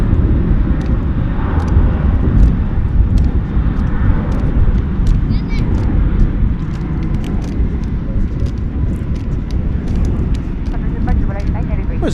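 A Boeing 747 taking off and climbing away from DFW Airport, a steady distant jet roar and rumble that persists under people talking nearby.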